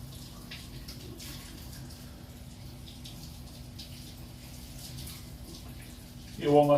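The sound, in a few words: rinsing woodpigeon carcasses under running water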